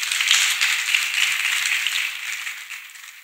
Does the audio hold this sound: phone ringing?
no